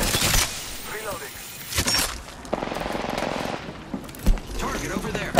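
Bursts of gunfire crack out in an Apex Legends match, sharp automatic shots spaced between quieter stretches of in-game ambience and a short rattling volley in the middle.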